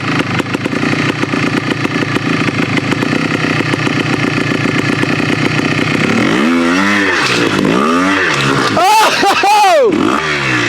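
A Yamaha TY 250 trials motorcycle engine runs steadily up close, then rises and falls in several revving sweeps as the bike pulls away in second gear, with someone talking over the engine.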